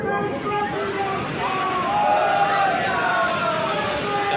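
Strong sea waves surge and slosh at Ganpatipule beach in the rain, a dense, continuous roar of surf with swelling crashes, close and loud throughout.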